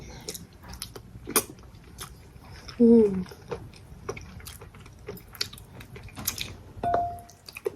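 Crispy fried chicken skin being eaten close to the microphone, with scattered crunchy bites, wet chewing and squishy mouth sounds, and a person speaking briefly between mouthfuls.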